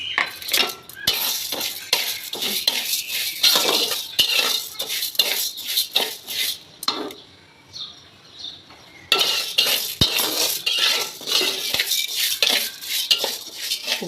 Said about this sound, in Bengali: এখন কিছু একটা চাল দিয়ে দেবো, অল্প অল্প করে ভেজে নিতে হবে